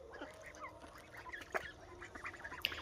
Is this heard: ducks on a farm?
yes